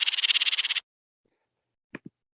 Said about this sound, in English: here's a trill of noisy notes or a trill of harsh notes